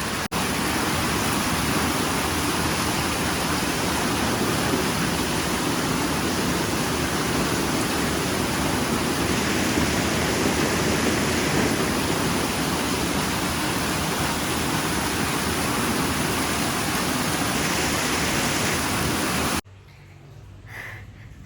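Heavy rain in Manjeri falls steadily as a dense, loud, even wash of noise for about twenty seconds, then cuts off abruptly near the end, with no talk over it.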